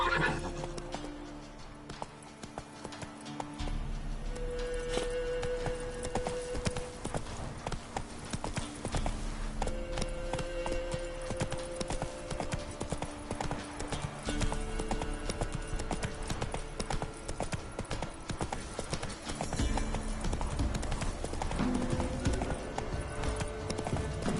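A horse galloping in The Witcher 3 video game, rapid rhythmic hoofbeats clip-clopping steadily over many seconds with a whinny and occasional game sound effects mixed in.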